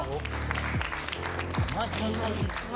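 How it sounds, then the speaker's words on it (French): Audience applause during a French game show, steady clapping heard under a voice speaking throughout, with a busy, lively studio feel. "On peut applaudir, on peut applaudir. Applaudissements, applaudissements."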